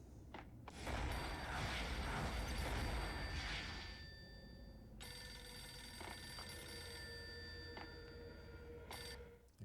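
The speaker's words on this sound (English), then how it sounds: "Looks like he's getting a phone call like the guy in Silent Hill." A telephone rings in the Max Payne video game, a mechanical bell ringing in repeated bursts over a dense, noisy game ambience, with no speech over it.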